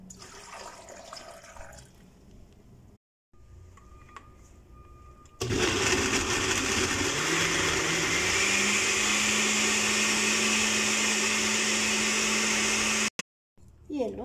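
An electric kitchen blender roars to life and runs steadily for several seconds, its motor whine rising in pitch as it blends lemon juice, water and ice, after a quieter stretch of handling sounds.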